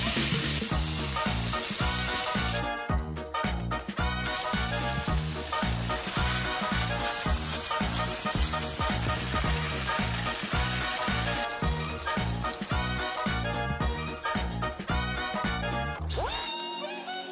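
Salt yakisoba noodles fry in a pan with a loud, continuous sizzle and rhythmic stirring pulses, cutting off abruptly just before the end.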